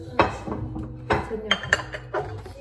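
Ceramic bowls clink and rattle as they are stacked away in a kitchen sink area, several separate knocks spread across a couple of seconds, close by with faint background voices.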